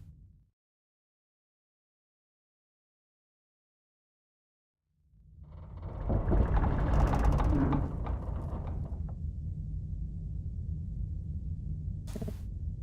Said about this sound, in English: Okay, we just had a creaking noise.